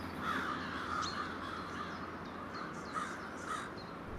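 Many crows gathered at a city roost caw repeatedly, harsh calls overlapping at irregular intervals over a steady background hum, some near and some farther off.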